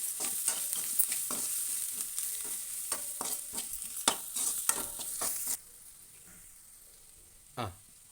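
Chilli powder and salt being stirred into hot oil in a pan for a masala-stuffed brinjal curry, with repeated scraping spoon strokes over a sizzle that drops to a faint hiss, then one last clink.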